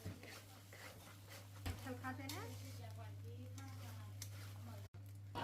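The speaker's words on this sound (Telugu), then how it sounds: "ఇలా స్లో ఫ్లేమ్లో ఇలా కలుపుతూ ఉండాలి." Fish eggs being stirred in a frying pan over a slow flame, a soft continuous sizzle with scraping stirs and a steady low hum, while someone talks over it.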